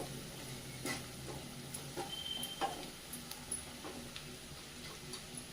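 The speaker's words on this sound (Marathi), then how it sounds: "कांदा एकदा परतून घ्यायचा व्यवस्थित" Onion sautés in a pan with asafoetida and turmeric, giving a faint, low sizzle broken by light ticking stirs and taps of the spoon, with no voices.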